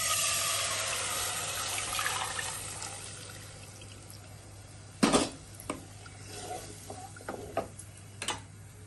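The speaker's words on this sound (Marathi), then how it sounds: "दूध घालून घेऊयात।" Milk poured into a pan of fried vermicelli for custard falooda, a soft liquid pour fading out, then a few clinks of a spoon against the pan.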